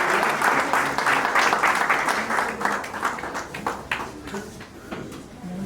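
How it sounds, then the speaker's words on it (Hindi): A retirement function audience breaks into loud, sustained applause that slowly thins out toward the end, with a voice audible beneath it. "जोरदार तालियों के साथ"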